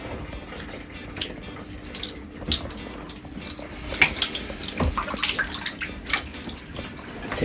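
Water runs steadily from a tap into a darkroom sink or tray while a photographic print is washed, a continuous splashing rush with occasional louder spatters and drips, no voices.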